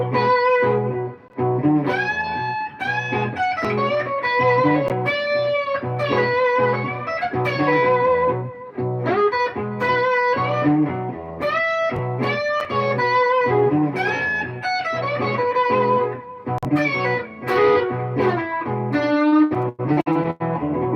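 Lead electric guitar plays blues licks in the box position, with bent, sustained notes over a steady backing, loud and continuous with no talking.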